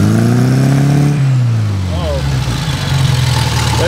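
A 1972 Fiat 850 Sport Spider engine running steadily, its pitch dropping as the revs ease off and then settling into a rough idle. The engine is loud and close, with voices talking over it.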